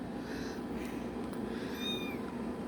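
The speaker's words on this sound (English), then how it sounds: "It's been meowing for like the longest time." A kitten meows repeatedly indoors, a few soft, high cries over a steady low background hum, fairly close but not loud.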